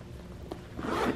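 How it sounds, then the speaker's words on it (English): A zipper on a protective gear bag opens in a short, close rasp lasting about a second. "comes in this nice zippered protective bag with the Wicked Lights logo on it"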